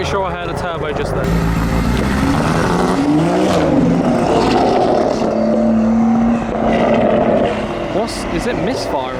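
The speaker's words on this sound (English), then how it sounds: "It sounded like it was just misfiring like mad." A modified car pulls away from a car meet with its engine misfiring hard, a loud, rough, uneven roar that runs throughout with people talking nearby.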